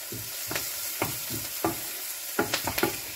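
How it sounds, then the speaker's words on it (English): Chopped gammon and onions fry in a pan while being stirred, a close sizzling bed broken by repeated scraping stir strokes, about a dozen in irregular rhythm, with no speech. "So by the time you've chopped your gammon up, the onions, give them a quick stir."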